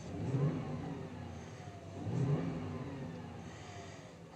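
Gas 6.2-litre V8 in a 2011-16 Ford F-250 pickup, fitted with a K&N intake, revs twice in steady blips, rising and falling with a low rumble, fairly loud and close, no talk.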